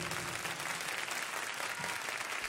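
Dense, steady applause from a hip-hop battle audience voting for a rapper at a championship MC battle, a loud continuous wash of clapping throughout the short stretch.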